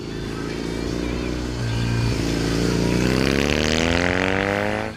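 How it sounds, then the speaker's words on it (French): Kawasaki W800 SE motorcycle with an 800cc 360-degree parallel-twin engine, revving steadily and climbing smoothly in pitch with a deep, even exhaust note, loud and close, with no talk over it. "ce son du Twin 800 4 tonnes calé à 360 degrés"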